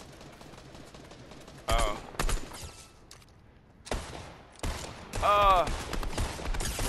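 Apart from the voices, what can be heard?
gunfire in video game Fortnite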